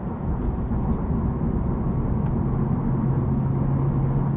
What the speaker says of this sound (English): see if you can hear the car when you flip it into plus R mode.